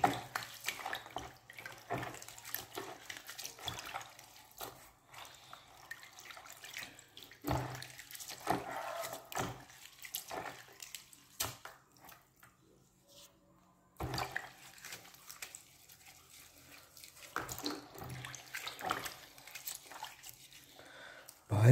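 Water is poured for a basil bath in quiet, intermittent splashes and trickles with brief pauses between them and a short silence midway, with faint voices in the background.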